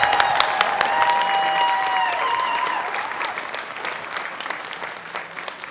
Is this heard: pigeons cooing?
no